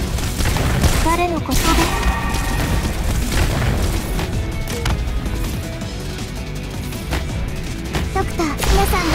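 Weapons fire across a battle in the tower-defense game Arknights, loud booms and cracking impacts repeating throughout with voices speaking over the barrage.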